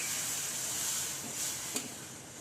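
Steady broadband hiss, like steam rising as water hits a hot pan, with a brief knock near the end and no voices; water poured into a hot pan while making sambar.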